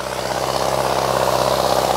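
Modified Sonalika 735 tractor with an aftermarket turbocharger, its diesel engine running at a steady idle with an even, continuous drone and low vibration heard close by, no talk.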